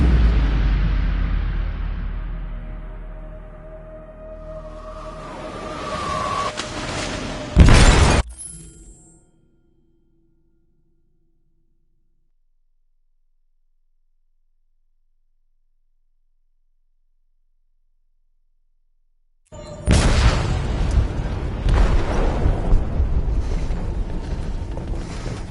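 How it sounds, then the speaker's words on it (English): A blast from an explosive detonated in a ship's hold in the video game Detroit: Become Human, with loud rumbling and shattering debris that builds then cuts to silence before a second roaring burst of destruction resumes. "They detonated an explosive in the hold."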